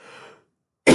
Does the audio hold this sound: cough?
yes